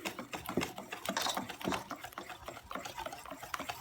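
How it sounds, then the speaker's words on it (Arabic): A mixer whirs steadily at low speed, beating flour into cake batter with a continuous rough churning and scraping texture, close and moderately loud. "نضرب غير بشويه حتى يدخل الدقيق مزيان"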